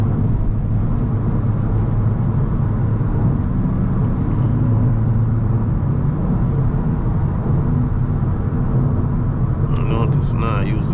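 A car driving in sport mode gives a steady low engine rumble and road drone that stays constant for the whole stretch, with brief higher-pitched noises near the end.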